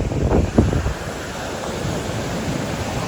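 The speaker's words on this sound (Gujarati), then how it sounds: "ખરેખર એટલો મસ્ત પવન આવે છે" Wind blowing strongly by the sea on the coast at Somnath, a loud rushing roar with gusty buffeting against the microphone and surf beneath, continuous throughout.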